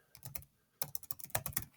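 Rapid keystrokes on a computer keyboard, a short burst of taps, a brief pause, then a longer quick run of close, crisp clicks with no voices.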